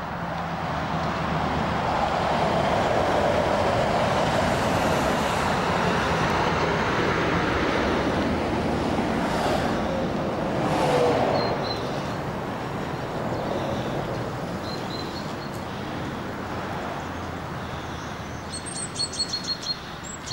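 Heavy traffic on a busy trunk route carrying freight between the Felixstowe and Harwich docks and Birmingham, a broad continuous roar of passing vehicles from a distance, with bird chirps high above it.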